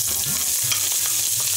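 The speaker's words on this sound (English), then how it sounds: "Next in goes some chopped onion." Chopped onion hits hot oil with spluttering cumin seeds, a loud, dense, close sizzle that runs steadily with bursts of crackle.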